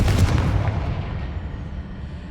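A Confringo fire spell explodes in Hogwarts Legacy, a loud deep boom at the very start that rolls into a long rumbling decay and fades over a couple of seconds.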